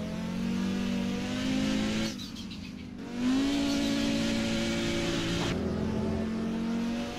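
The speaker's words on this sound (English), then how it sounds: "Into the drift we go at Le Combe." An Audi 90 race car drifting through Les Combes in a racing video game: a loud revving engine dips abruptly, then surges back with rising pitch and tire scrub, another sharp drop later, no talking.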